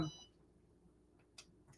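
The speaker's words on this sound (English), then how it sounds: "So on this one, it just started to beep to tell me, hey, I've reached the end of my timer." A heat press timer gives a brief electronic beep at the very start, fairly faint, then a quiet room with low hum follows.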